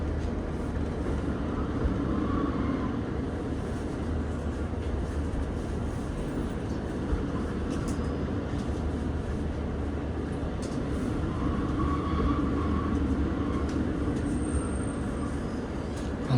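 A train on a Cornwall line pulls into Truro station, producing a low, continuous rumble and rolling wheel noise heard from inside the carriage, steady throughout with occasional faint squeals and clunks.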